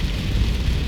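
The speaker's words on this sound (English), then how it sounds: "as the rain starts to fall a little more heavily now" Steady, dense rain falls in a town near Las Vegas, a continuous close wash of noise with no breaks and no voices over it.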